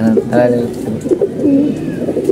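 A gulla pigeon in a smelly loft gives low, bubbling coos in short bursts, close and clear, while a person talks over it at moments.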